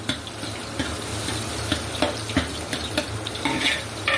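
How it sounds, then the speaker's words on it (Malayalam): Banana pieces roast in a hot pan for a pineapple banana kesari, giving a steady soft sizzle with light scraping and stirring clicks throughout. "പഴം ഇട്ടൊന്ന് റോസ്റ്റാക്കി എടുക്കാം."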